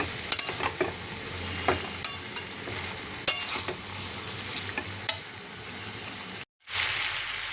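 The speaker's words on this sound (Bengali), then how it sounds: "পটল ভাজাটা দিয়ে একটু নাড়িয়ে চাড়িয়ে গরম জল দিয়ে দেবো" Fried pointed gourd stirred in a pan with soybean chunks, potato, tomato, spices and bay leaf gives a steady sizzle broken by repeated scraping strokes, then a sudden gap and a louder hiss.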